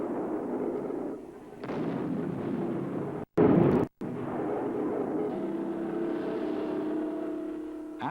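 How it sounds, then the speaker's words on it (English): Tank guns fire from stationary positions during a 1994 armoured assault exercise, heavy booming blasts over a constant deep engine rumble, with one sharp close report standing out midway. "After firing from stationary positions, the tanks rumble forward to engage targets while on the move"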